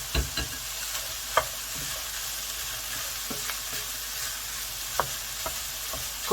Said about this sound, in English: Cook that gently for about 5 minutes until the peppers are nicely soft.